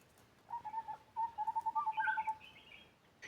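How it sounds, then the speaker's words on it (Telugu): Forest birds call in quick repeated bursts, a series of short tonal notes with higher chirps near the end, moderately close against quiet background. "అడవిలో పక్షుల ఒక సౌండ్ చూడండి ఫ్రెండ్స్,"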